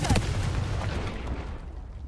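A Confringo spell blast from the Hogwarts Legacy video game, with a loud, dense burst at the start that rolls into a rumbling boom and decays over about two seconds.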